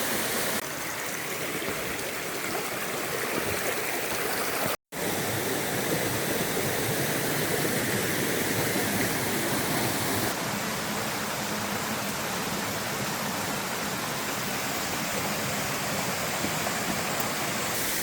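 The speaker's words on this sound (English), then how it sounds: "This is Salto de la Bruja, the main waterfall in this area." Loud, steady roar of Salto de la Bruja, a jungle waterfall near Tarapoto and Moyobamba in Peru's Amazon region, broad rushing water noise filling the whole scene with no voices.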